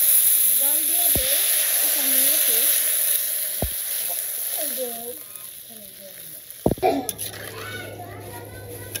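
Water poured into a curry cooking in a village kitchen bursts into a hissing sizzle, with a sharp splash near the end, while children's voices chatter and call in the background throughout.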